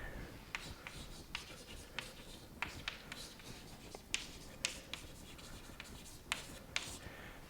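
Notes being written during a math lecture: faint pen or chalk taps and scratchy strokes in a loose, irregular rhythm over a soft background hiss, with no speech.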